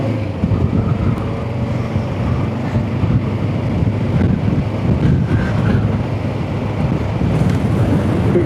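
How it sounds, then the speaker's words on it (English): Wind buffets a DJI Osmo Action 5 camera mounted on the side of a motorcycle helmet, producing a loud, continuous low roar and rumble with no break and no voices. "Bit of wind in the air today."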